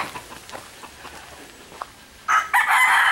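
A rooster crows loudly near village chicken coops on Leyte in the Philippines, a single bright call near the end after quieter outdoor ambience with faint clucks.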